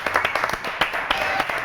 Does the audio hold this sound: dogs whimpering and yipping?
no